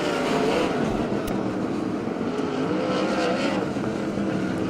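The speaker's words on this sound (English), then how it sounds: "Great racing action for that 3rd spot as we got a rough run flat on the 74 machine of Colton Hurry off of turn 4." USAC 360 sprint cars roar loudly and continuously around a speedway, with engine drone filling the scene and no voices.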